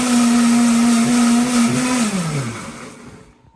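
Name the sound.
blender grinding ginger, garlic and onion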